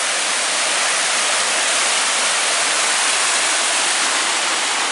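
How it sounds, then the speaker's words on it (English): Loud, constant rushing roar of a waterfall at Chickasaw National Recreation Area, Oklahoma, a dense unbroken wash of noise close by, with no voices. "Water's moving good this morning"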